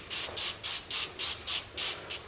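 An aerosol can of glue remover sprays onto leftover adhesive on a Jeep Grand Cherokee in eight short, evenly spaced hissing bursts, close and loud with nothing else heard.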